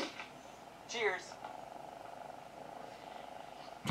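A relaxed cat purring softly in a quiet room, a low steady rumble running through the whole stretch with a brief voice sound over it near the start.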